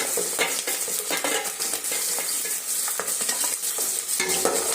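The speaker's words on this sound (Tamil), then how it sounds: "பூண்டை போட்டு நல்லா வதக்கிக்கலாம்" Garlic sautés in hot oil for a fish curry, a loud continuous sizzle broken by repeated scraping and clinking stirs of a spoon against the pan, close and without talk.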